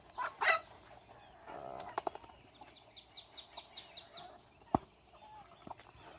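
Chickens cluck and squawk in scattered short calls, some close and sharp, others softer, with occasional wing flaps and faint farmyard background.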